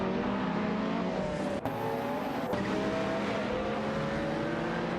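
Race cars in a video game, a McLaren F1 LM and a Ferrari F40 LM, drone steadily with sustained engine whine at close range, a brief sharp dropout near the middle, no talk.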